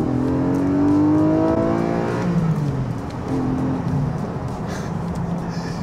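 A Porsche 718 Boxster GTS 4.0 engine revs hard through the gears, its rising tone climbing then dropping at a shift before pulling up again, loud and close with road roar beneath and no talking.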